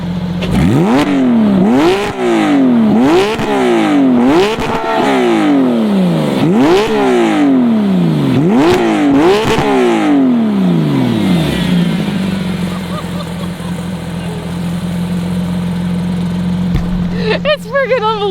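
A white Porsche 911 GT3, a rebuilt total-loss car, revs hard toward 9,000 RPM in a run of repeated loud sweeps, each climbing and dropping in a sawtooth pattern, then settles to a steady idle, with a clatter at the end.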